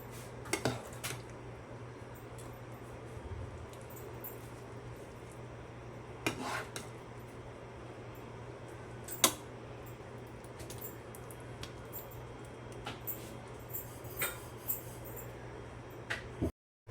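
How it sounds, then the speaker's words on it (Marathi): Cooked coconut mixture for coconut khava barfi being spread across a metal plate, soft scraping with occasional faint clinks of a utensil against metal, quiet and close. "आता हे जे खोबऱ्याचं तयार केलेलं आहे ते आपण इथं पसरवून घ्यायचं आहे"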